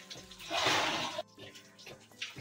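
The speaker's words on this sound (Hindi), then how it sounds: "पति देव कर रहे हैं टैंक साफ देखो कितना गंदा पानी हो रखा है इसमें" Dirty rainwater sloshing inside a household water tank during cleaning: one loud splashing surge of churning water, then softer scattered splashes and knocks, fairly close.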